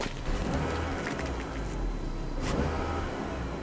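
A Peugeot 308 hybrid pulls away quietly, giving a faint, smooth, rising hum with road and cabin noise around it and a couple of soft clicks, heard from inside with no talking.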